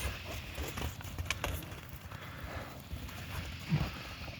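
A heavy draft mare on a farm walks with soft, irregular hoof clops over ground, fairly faint and muffled against a low rumbling outdoor background.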